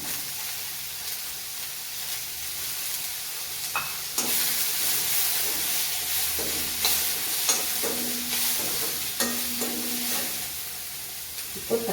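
Ginger garlic paste frying with onions in a pan for a white vegetable kurma, giving a steady soft sizzle and hiss with occasional stirring scrapes and clinks; close and moderately quiet, with no voices.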